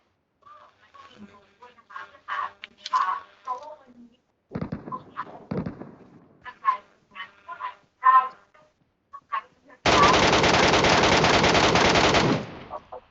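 Gunfire in the mobile game PUBG Metro Royale comes in as a sustained burst of automatic fire near the end. Before it, two players talk over scattered game noises.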